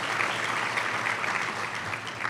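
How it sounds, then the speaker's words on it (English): Audience applause fills a foundation event, a dense, steady clatter of many hands clapping that runs without pause from start to finish. "let's give them a round of applause for being here."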